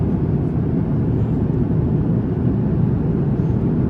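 A steady, loud airliner cabin drone in flight on a long route toward Stockholm, Sweden: an even low rumble of engine and airflow with no breaks, and no talking.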